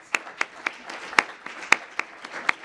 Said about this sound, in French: on peut l'applaudir tout de suite